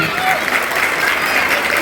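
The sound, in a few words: audience applause for the event organizers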